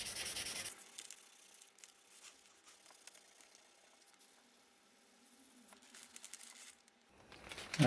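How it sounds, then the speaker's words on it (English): Sanding lacquer off a guitar headstock by hand, with soft repeated rubbing strokes close by, quiet and intermittent with brief pauses between passes. "Just sanding a bit of lacquer off the rest of the headstock just to"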